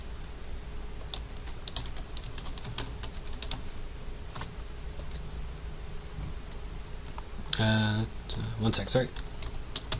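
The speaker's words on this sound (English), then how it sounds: "I'm typing over my other console" Fingers tap on a computer keyboard in soft, scattered clicks over a steady low hum, followed near the end by a brief spoken apology and a burst of louder key presses.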